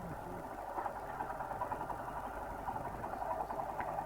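A Honda CB 150F motorcycle engine idles on a street in Quetta, a low steady mid-pitched rumble heard close and unbroken throughout.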